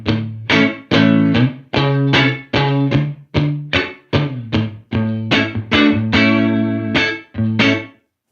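A red Stratocaster electric guitar played through a Showtime '64 tube amp plugin strikes loud, rhythmic chords with a slightly driven tone, each stab ringing briefly before the next. It plays alone, with no voices.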